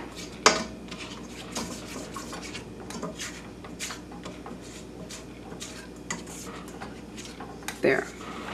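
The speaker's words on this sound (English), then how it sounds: "I'm going to need to scrape down the side right here to make sure everything is incorporated." A spatula scraping down the sides of a mixing bowl of gingerbread cheesecake batter, repeated scrapes and clinks against the bowl with a few louder knocks, while a person talks over it.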